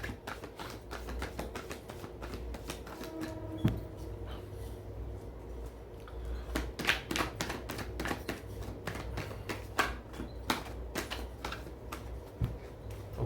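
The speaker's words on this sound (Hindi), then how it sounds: "जब मैं कार्ड शफल करूंगा तो शफलिंग के साथ खुद को कनेक्ट कीजिएगा" Tarot cards are shuffled close by, a steady run of soft papery flutters and riffling taps continuing through the stretch with slightly louder bursts midway.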